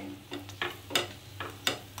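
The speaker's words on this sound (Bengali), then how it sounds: "সাইডগুলো একটু চিপে চিপে ভালো করে ভাজবেন যেন কোনো মতেই না কাঁচা ভাব লাগে" A paneer and cheese stuffed paratha fries in a pan while its edges are pressed down, with faint sizzling and soft, irregular scraping taps from the spatula, quiet and close with no voices.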